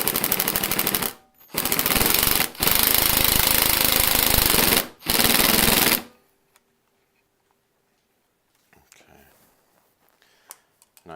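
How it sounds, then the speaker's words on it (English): A power drill drives screws into a plaster hand-stand base in loud, harsh, continuous bursts separated by brief pauses, then stops, leaving near silence with a few faint clicks and handling noises. "screw them in. Go slowly."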